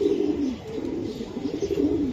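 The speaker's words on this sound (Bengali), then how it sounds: "কালদম কবুতর" Kaldom pigeons cooing nearby in a continuous, overlapping low warble, steady and fairly loud, with no talk.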